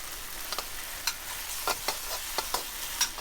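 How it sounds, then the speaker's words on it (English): Intermittent sizzling and clattering as kale and beans are stir-fried in a hot pan, with several sharp scraping bursts over a steady background hiss; no talking. "get that in there and start stir frying that"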